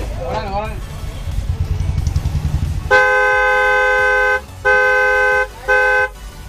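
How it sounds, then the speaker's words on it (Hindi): Heavy dual car horn fitted to a Fiat Punto, blasting three loud bursts: one long toot, then two shorter ones, after a voice talking briefly at the start. "जो इसमें हॉर्न लगा है भारी वाला हैवी वाला हॉर्न,"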